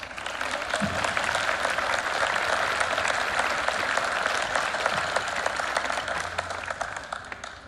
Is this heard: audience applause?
yes